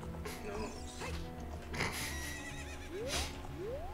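Epona, Link's horse in the video game Ocarina of Time, gives a couple of loud rising whinnies near the end, preceded by hoof clip-clops and game effects.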